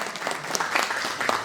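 An audience gives a sound engineer a brief round of applause, a dense, steady wash of many hands at a moderate distance.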